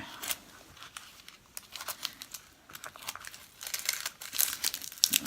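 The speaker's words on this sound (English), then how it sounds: "So I'm going to go ahead and take my tape and get rid of it." Embroidery tape and stabilizer being pulled off and crumpled by hand, close, quiet crinkling and tearing rustles in irregular bursts that grow busier toward the end.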